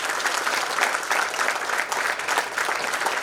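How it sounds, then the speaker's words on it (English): Audience applause fills a convocation hall, a dense, steady wash of many hands clapping continuously at close range with no speech over it. "So a big clap for Athani sir"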